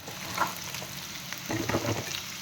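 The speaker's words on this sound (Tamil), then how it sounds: "வெங்காயம் எண்ணெயில் வதக்கிக்கிறோம் ஆறு ஏழு பச்சை மிளகாயும் அதோடு வதக்கிக்கிறோம்" Onions and green chillies sautéing in hot oil in a pan for malai chicken, a steady soft sizzle with brief stirring scrapes and bursts of frying, close and alone.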